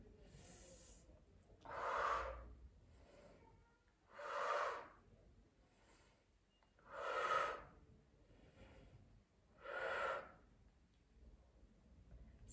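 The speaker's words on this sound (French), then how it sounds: "J'inspire, j'expire." Slow, deliberate breathing during a back exercise, four evenly spaced breaths close to the microphone, each a soft airy rush about every two and a half seconds with quiet gaps between.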